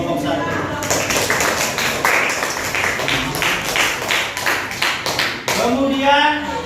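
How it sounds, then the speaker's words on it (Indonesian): A classroom of students claps for a group's answer during an Islamic religious education lesson, a fast, uneven burst of hand claps lasting several seconds, loud and close, with a voice rising briefly near the end. "Tepuk tangan untuk jawaban kelompok 1."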